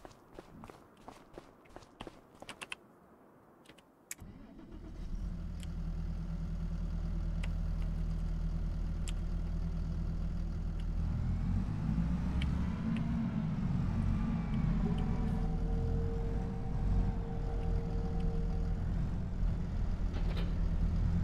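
Tractor engine in Farming Simulator 25 starts after a few light footstep-like clicks, then settles into a steady low idle that holds under a faint whine for the rest of the stretch, with no talk.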